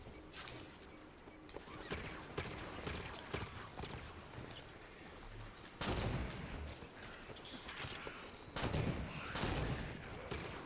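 Rapid bursts of Halo 5: Guardians gunfire, sharp cracks and volleys scattered across the stretch, with heavier blasts standing out amid background game noise.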